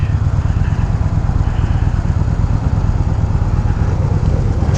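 A 2018 Yamaha Bolt R-Spec cruiser motorcycle runs steadily while riding, its low engine drone continuous and loud under rushing wind, with no break in the rhythm.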